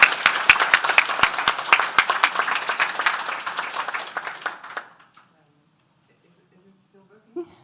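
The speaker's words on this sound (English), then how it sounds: "big applause." Applause from a conference audience crackles with sharp individual claps at first, then thins out and dies away into near silence, with a faint sound near the end.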